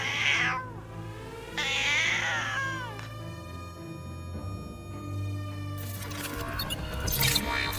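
Several cats meow and caterwaul in loud, drawn-out cries that rise and fall, one after another, with no speech.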